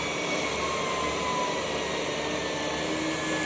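A Ryobi HP brushless stick vacuum runs in low mode, its motor giving a steady, close, whooshing whine with a constant high tone and no breaks, alone with no talking.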